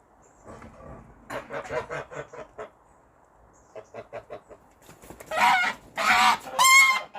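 Geese honking nearby, bursts of rhythmic cackling calls in clusters, quieter in the middle and then loud, harsh honks at the end, with no talking.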